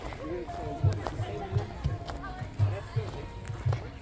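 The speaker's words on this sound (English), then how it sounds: "They have horse riding over there" Hooves of riding horses clip-clop in a steady, even rhythm at moderate distance at an outdoor market, mixed with background chatter and crowd noise.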